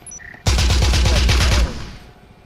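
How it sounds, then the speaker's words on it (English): Rapid automatic gunfire in the video game Breachers, a loud close burst of evenly spaced shots lasting about a second, then cutting off into a fading tail. "Gunfire still being exchanged from Colt and somebody from Legacy"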